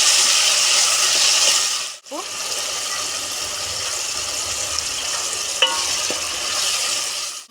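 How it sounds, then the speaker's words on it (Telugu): Onion paste and tomatoes fry in a pan with spices and green chillies, giving a steady, loud broadband sizzle with occasional stirring scrapes and a brief dip partway through. "టమాటాలు వాసన పోయేదాకా వేగనిద్దాం"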